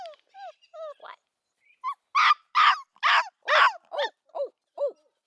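Coonhound puppies yip, whimper and bark in a loud, boisterous burst, starting with thin rising whines and then a run of sharp, close barks, roughly a dozen in total.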